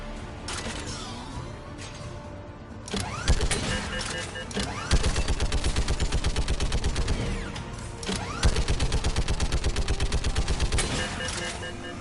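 Rapid turret gunfire in the Mass Effect 3 Legendary Edition video game, long rattling bursts of evenly spaced shots with mechanical clanks between them, loud and close amid busy game noise.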